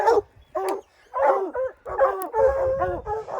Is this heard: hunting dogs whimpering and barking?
yes